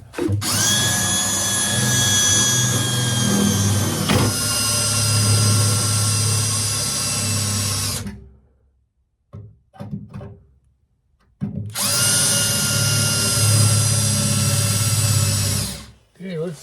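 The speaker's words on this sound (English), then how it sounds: "So I'm going to drill it out right now" Power drill whines loudly while drilling out a rotted seal on a VW Beetle, running in two long bursts separated by a pause with a few short clicks and handling noises.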